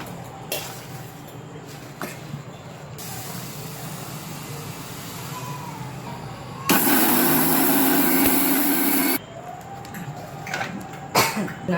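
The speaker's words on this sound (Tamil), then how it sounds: "இப்போ இது ரெண்டையும் நான் அரைச்சி எடுத்துக்க போகிறேன்" An electric mixer grinds dried red chillies and mustard seeds, a loud steady whirring roar lasting about two and a half seconds, set against quieter kitchen clatter before and after.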